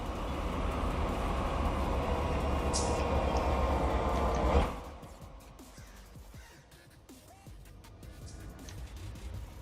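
A freight train in the Run8 train simulator game starts to move, giving a steady, loud rolling rumble that cuts off abruptly midway, leaving a much quieter background with scattered faint knocks.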